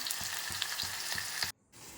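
Onions frying in oil with spices in a pressure cooker for millet biryani, a steady broadband sizzle with a few soft stirring knocks, then a brief sharp drop near the end before the sizzle resumes.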